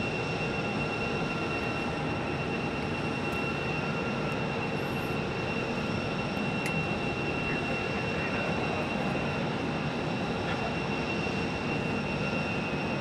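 A Boeing 737 MAX 8 jet airliner from St. Louis at Phoenix airport, heard as a faint, steady distant engine rumble with a constant whine running through it.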